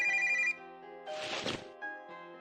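A telephone rings faintly in a game scene, a short electronic ring tone over soft background music, followed by a brief burst of noise and the music continuing.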